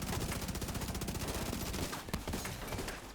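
Rapid automatic gunfire from The Division, a sustained fusillade of dense, overlapping shots that runs steadily for a few seconds, then breaks into a few sharper separate bursts near the end.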